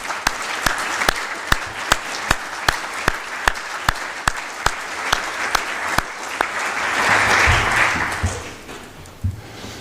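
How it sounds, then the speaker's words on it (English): Audience at the World Meteorological Day ceremony gives scattered rhythmic clapping that swells into a louder, denser round of applause near the end before fading, heard close and without talk. "and I think great applause to"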